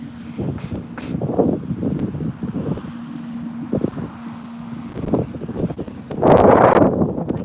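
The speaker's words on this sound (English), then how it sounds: "Look at the wind. So windy" Strong wind blasts across the microphone in rough, rumbling gusts, building to a loud roaring rush near the end.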